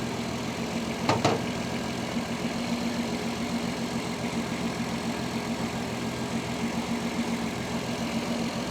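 A 1967 Mustang engine fitted with Holley Sniper 1100 EFI idles steadily with an even low rumbling pulse, close by, with one brief clank near the start.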